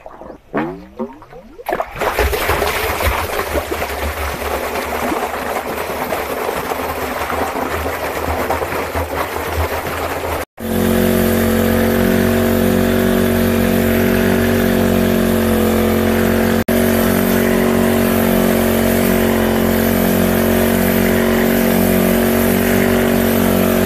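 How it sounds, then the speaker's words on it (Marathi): A farm water pump motor runs steadily and loudly, a constant droning hum with a sharp change in tone partway through, then a continuous mechanical whir with no talk. "आपण मोटर चालू केली म्हणजे कॉक फिरवला"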